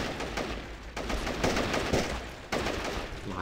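Repeated gunfire from a battle royale shooter game, Tacticool, with shotgun blasts in a dense, continuous volley of loud shots and rapid bursts lasting several seconds, no voices.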